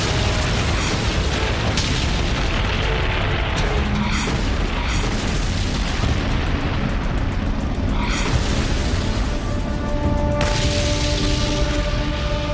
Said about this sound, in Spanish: Los tanques avanzaban unos contra otros disparando.